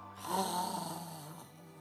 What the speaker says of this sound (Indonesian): Tuhan Yesus lagi ngorok.